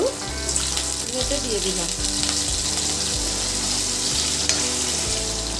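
Finely diced large potato sizzles in hot oil with cumin for mutton ghugni, a loud, close, continuous crackling fry with occasional stirring clatter, while someone speaks briefly over it.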